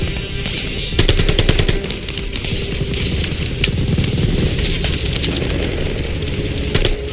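Loud, close machine gun fire in the Call of Duty Vanguard campaign mission Operation Tonga rattles in rapid, sustained bursts, with one heavier volley near the start and dense battle noise throughout.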